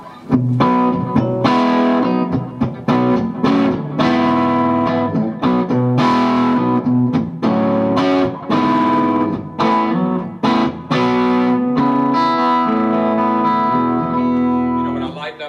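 An electric guitar through an amplifier set at volume 5 plays chords and picked notes with a warm, slightly driven tone and some reverb, continuous and fairly loud.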